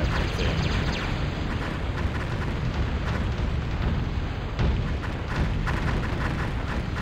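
Tremor artillery in the real-time strategy game Total Annihilation bombards a battlefield, a dense, relentless barrage of overlapping booms and explosions that roars continuously at high volume.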